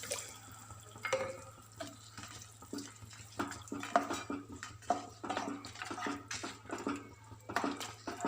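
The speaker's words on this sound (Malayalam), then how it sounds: "ഞാൻ ഇതിലേക്ക് കുറച്ച് വെള്ളം ചേർത്ത് കൊടുക്കുകയാണ്." Water is poured into dragon chicken sauce in a pan, a close, uneven splashing and trickling with light clinks of the pan, moderately quiet and without speech.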